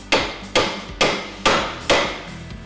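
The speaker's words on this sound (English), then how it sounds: "Just hammer it until it stops." Five sharp, evenly spaced hammer blows drive a Dynatrac HD ball joint into a Jeep Wrangler JK axle knuckle, each strike loud and metallic with a brief ring-off, no voices present.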